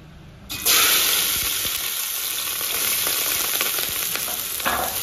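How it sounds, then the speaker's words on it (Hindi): Chopped onions hit hot oil in a pot with a sudden loud sizzle about half a second in, then keep frying in a steady close hiss, with a brief stirring clatter near the end and no voices. "प्याज को अच्छे से सौते करेंगे।"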